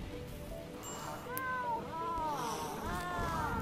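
Cat meowing in the video game RimWorld, where cats are being slaughtered: several rising-and-falling meows in a row, fairly clear over a busy game background with faint talk.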